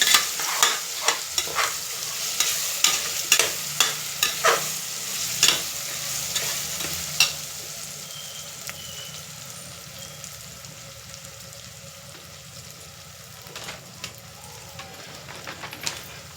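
Tomatoes frying in a pan for veg pulao, a soft continuous sizzle with a quick run of spatula taps and stirs at first, then a calmer steady frying that carries on alone.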